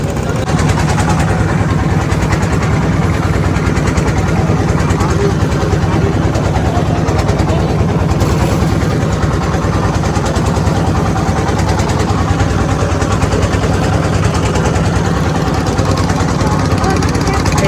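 A motorboat engine drones steadily and close as the boat pulls away from the landing at Sada Pathor in Sylhet, a constant low rumble running unbroken throughout with no talk over it.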